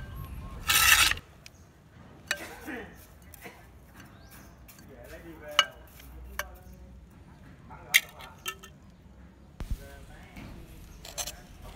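Stones being placed at the bottom of a plant pot make scattered rasping and clattering scrapes at close range, with a burst of pouring grit early on and intermittent knocks afterward.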